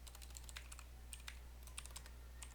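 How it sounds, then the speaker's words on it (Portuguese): Steady, rapid keystrokes on a mechanical keyboard, quiet and close, with irregular clicky rhythm over a low constant hum. "Se vocês estiverem ouvindo esse barulho é porque eu tenho um teclado mecânico"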